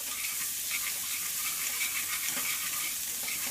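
Chopped garlic sizzling in a hot pan while cooking shrimp and grits, a continuous bright frying hiss with soft stirring underneath, steady and close throughout.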